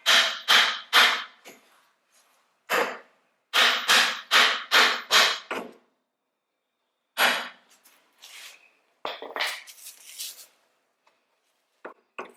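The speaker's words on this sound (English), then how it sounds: "you can just push it in with the hammer. Just gonna tap it to go inside." A hammer taps a front lower control arm into place on a 2013 Audi A4, sharp metallic strikes in quick bursts of several blows separated by pauses, with a few lighter knocks near the end.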